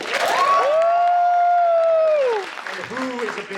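Panel audience at New York Comic Con 2024 cheering loudly with long sustained whoops and yells over a bed of clapping, at a Magic: The Gathering Marvel Secret Lair reveal; the cheers drop off midway, leaving scattered claps and shouts.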